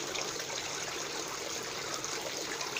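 Water runs steadily through a flow-through fish production system, a continuous close rushing and trickling with no pauses and no voices.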